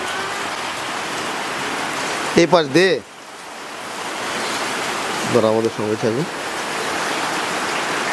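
Heavy rain pours steadily outdoors at a cattle farm, a dense, even roar with two short bursts of speech over it.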